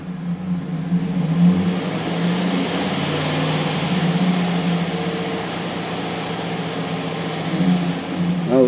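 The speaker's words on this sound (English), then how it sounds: "There's a rattle in the engine." A 2010 GMC Sierra engine idles with a steady low drone and an uneven rattling texture riding over it, close up and fairly loud, with no talking.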